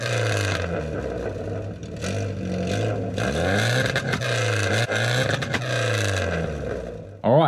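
A Ford Escort Mk2 engine revs hard and close, rising and falling through several throttle blips with rough, crackling exhaust pops, ending in a sudden loud burst.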